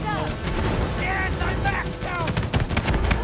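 Flying shooting sequence in It Takes Two, with a busy stream of game gunfire, booming hits and whooshing effects. Voices talk excitedly over the noise.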